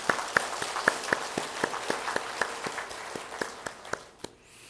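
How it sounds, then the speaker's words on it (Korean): A church congregation at a Sunday worship service claps together in a steady, regular rhythm, a dozen or so crisp, evenly spaced claps over a background murmur before fading out. "박수 한번 하겠습니다."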